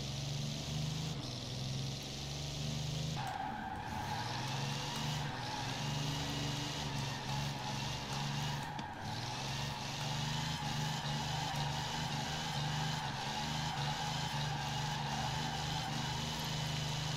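Napier Railton with a 24-litre aircraft engine in Forza Horizon 4, droning steadily and loudly throughout with a low, even rumble and small shifts in pitch, with no voices.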